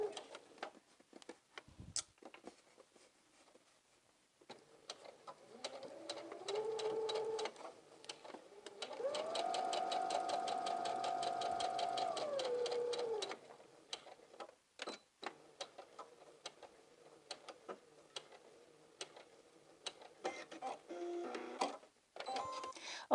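Sewing machine stitching a skirt seam slowly around a curve, a steady mechanical whir rising for a few seconds mid-stretch between quieter handling noises and faint clicks.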